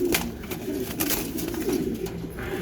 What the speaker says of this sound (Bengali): আর এগুলা অনেক রাগী কবুতর, অনেক অ্যাগ্রেসিভ।